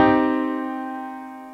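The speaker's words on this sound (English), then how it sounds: "And here is the sound of a minor triad." A single sustained minor triad chord of several notes rings alone and gradually decays in the quiet.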